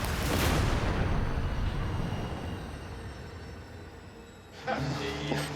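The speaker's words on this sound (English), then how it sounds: "We had a good detonation." Explosives detonated during a bomb suit blast test, a heavy boom at the start that decays into a long rumbling roar, followed by a faint voice near the end.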